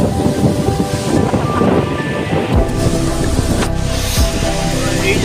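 The Mankad Dian waterfall roars as heavy, continuous falling water, loud and close, with deep rumbling surges and wind buffeting throughout.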